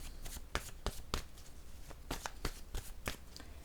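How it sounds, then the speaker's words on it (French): Cards are handled and a card is placed down on a table, giving a quick series of soft, close slaps and flicks. "Je vais déposer une carte ici."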